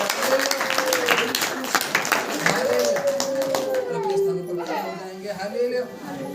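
A church congregation at a Hindi-language Saturday prayer meeting claps its hands in a dense, continuous round while voices and singing carry over the top.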